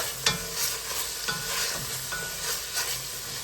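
Garlic sizzles in a pan alongside browning Italian sausage, a continuous close frying hiss broken by several scraping stirs of a utensil against the pan.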